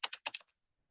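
A quick burst of about five close keystrokes on a computer keyboard, typed while entering text in a Canva design lesson, ending abruptly in silence with no talking.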